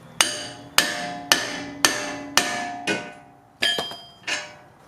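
Repeated hammer blows on a ball joint separator freeing the ball joints on a 1997–2001 Honda Prelude front suspension: eight sharp metallic strikes at a steady pace, close and loud, each ringing briefly, with no talk.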